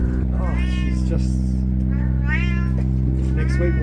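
A female cat in heat meows repeatedly, with long, drawn-out calls standing out over a steady low engine-like hum, while a person talks over the cries.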